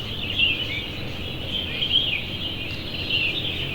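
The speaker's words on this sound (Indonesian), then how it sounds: "Dengerin suara kicau burungnya." Birds chirp faintly at sunrise in thin repeated high calls over a steady outdoor hum of wind or traffic, somewhat distant.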